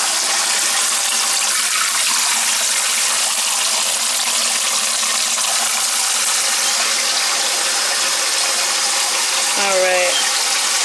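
Water pouring steadily into a container for homemade laundry detergent, a loud, continuous gushing rush that holds unbroken throughout at close range.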